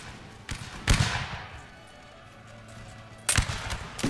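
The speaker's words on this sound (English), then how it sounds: "Volunteers concentrating their fire down on this side." Musket volleys crack out during a land battle in Napoleon Total War 3, with a few sharp reports and a loud burst around the middle that rings off into a fading rumble, then another close volley near the end.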